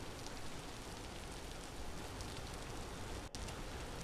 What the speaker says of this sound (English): you have rain sounds like you would be outside